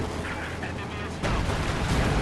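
Gunfire and artillery in Company of Heroes 2 during a 4v4 Wehrmacht-versus-Soviets online battle, a dense wall of battle noise that grows louder halfway through, with a voice talking over it.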